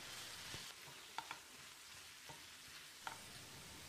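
A soft, steady sizzle of tomatoes sautéing in a pan for chutney, with a few faint clinks and taps of a utensil stirring, and no voices.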